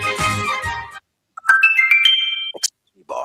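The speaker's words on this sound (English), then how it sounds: "Boss, you have a text message." Text message notification tone on a Jamaican daytime sports call-in radio show, a short bright melodic chime of a few rising notes sounding alone between stretches of a presenter's speech.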